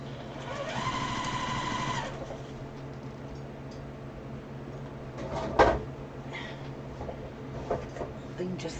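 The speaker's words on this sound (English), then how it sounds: "So let's sew that one next." A domestic sewing machine stitches quilt pieces in a short, fast whirring run of about a second at the start, then falls quiet. Soft handling clatter and a sharp knock follow.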